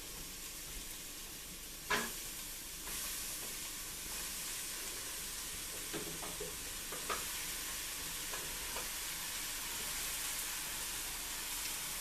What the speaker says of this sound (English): I'm going to add all of this potato to the pot.